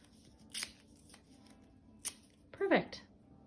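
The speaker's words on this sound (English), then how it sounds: "try to help them rip the paper up." Paper is torn by small hands in a few short bursts: two quick rips, then a longer tearing crackle, over a quiet, faintly noisy room.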